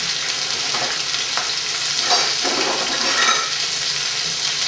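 Turkey with butternut squash and sage fries over high heat, a loud close steady sizzle with bursts of hissing spatter and stirring, no voices.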